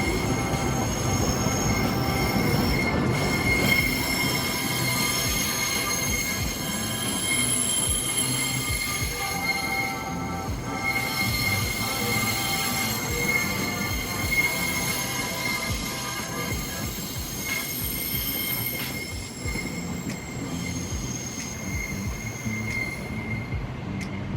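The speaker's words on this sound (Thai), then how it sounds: "สำหรับขบวนรถไฟฟ้าสายสีแดงขบวนนี้จะกลับเข้าสู่ ในย่านนะครับ" A Red Line electric commuter train rolls steadily into the rail yard near Chatuchak station, its wheels squealing and screeching on the rails amid a continuous mechanical rumble for an extended stretch.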